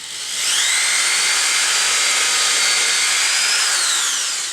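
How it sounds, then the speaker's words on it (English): A power drill bores a hole for a wool clothing drying rack, a loud, steady whine that rises and holds, then eases off slightly near the end, close and alone. "I want to drill the hole just ever so slightly to the left of my first one."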